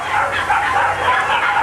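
Hungry, skittish dogs near an abandoned trailer bark and yip in the rain, several close, rapid overlapping barks running continuously with no pauses.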